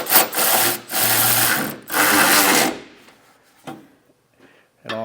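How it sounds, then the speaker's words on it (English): A ratchet with a swivel extension and 19mm socket works on trailer hitch bolts under a 2024 Hyundai Santa Cruz, giving three loud, close bursts of rapid clicking, then a few faint taps and a brief click at the end. "using a medium extension with a swivel and our 19mm socket, and just kind of get your socket held in place"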